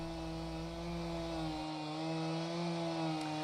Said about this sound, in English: I can hear the chainsaws going